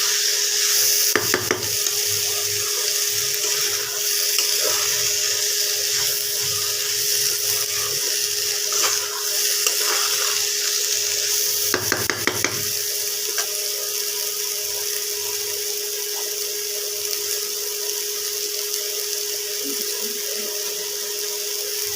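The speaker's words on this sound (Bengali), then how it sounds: "এই যে মটরটাকে এইভাবে মশলার সাথে কষিয়ে নেব।" Boiled peas for Bengali masala ghugni fry with spices in a pan, giving a steady close sizzle throughout, with a few louder scraping stirs near the start and around the middle, and no talking.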